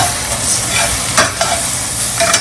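Spinach cooks in a frying pan with a loud, dense sizzle and hiss, punctuated by a few sharp stirring scrapes, close up and unbroken by speech.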